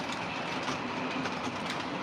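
Lionel O scale model locomotive running on track, a steady whirring rumble with light rhythmic clicking from the wheels, continuous and fairly close throughout.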